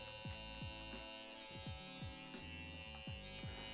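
An electric hair trimmer buzzes steadily close by as it is run over a comb during a haircut, with short repeated dips and swells in the hum as it passes through the hair.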